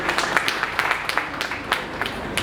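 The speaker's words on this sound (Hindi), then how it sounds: "जोरदार तालियां सुधाकर के लिए।" An audience at a Chamber of Industries & Services gathering in Saharanpur claps for a guest. The applause is a brisk patter of many hands, moderately loud and sustained for a couple of seconds.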